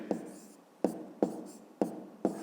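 Pen strokes writing a multi-digit number by hand during a fifth-grade maths lesson, five sharp scratchy taps spaced through the clip, close and fairly quiet, with no talk.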